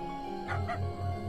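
A dog in a video game gives a couple of quick, short yips, fairly quiet against a steady electronic background hum.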